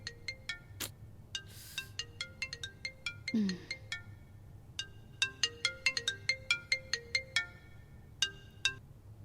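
A phone ringtone plays a quick, bouncy electronic melody of repeated beeping notes, fairly close and continuing steadily.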